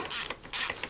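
Short ratcheting clicks from a wrench loosening spark plugs on a Clio 2 RS Minicup engine, two quick bursts of dry mechanical clatter up close.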